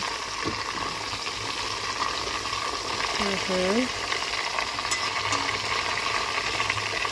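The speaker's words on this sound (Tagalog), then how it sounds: "Silipin na natin ang ating prito." Chicken pieces fry in hot oil in a casserole pot, a steady soft sizzle and crackle with a brief tonal squeak midway and a couple of sharp pops near the end.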